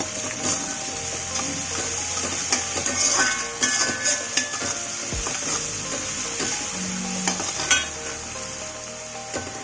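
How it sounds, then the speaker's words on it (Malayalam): Ginger, green chilli and garlic sautéing with salt in a pan, a steady sizzle and hiss broken by repeated spatula scrapes and taps, heard close with no talking. "നന്നായി വഴറ്റി കൊടുക്കാം."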